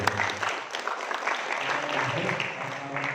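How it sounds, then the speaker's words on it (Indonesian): An audience applauds a police officer at a community gathering, a steady bed of clapping with some voices and background murmur mixed in throughout. "Oke, tepuk tangan untuk beliau"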